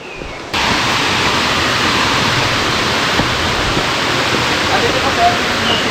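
Natural spring water at Fuyot Spring in Ilagan Sanctuary gushes from its source into swimming pools, a loud, steady rushing wash that starts abruptly and continues unbroken, close by.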